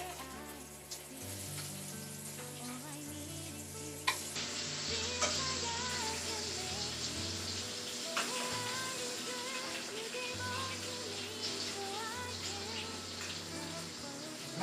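Bacon sizzles and crackles steadily in a frying pan during home kitchen cooking, a continuous bed of hissing spatter heard alongside background music.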